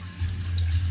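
Water runs from a faucet with a steady low gushing flow and a light splashy hiss, close and fairly quiet.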